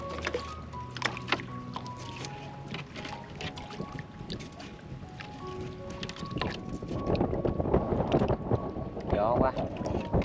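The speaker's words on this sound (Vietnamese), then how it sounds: "Gió quá." Strong gusts buffet a small fishing boat on a river near the sea mouth at Cần Giờ, Vietnam, the roar rising and growing louder toward the end, with tonal hums and voices early on.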